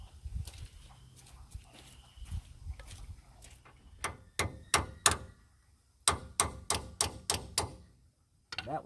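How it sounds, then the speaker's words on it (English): Sharp metallic hammer taps on seized parts of a 1969 Ford Mustang in quick bursts, about four then six strikes, close by, with quieter shuffling and a soft voice before them. "I'm gonna go get a hammer and lightly peck on them."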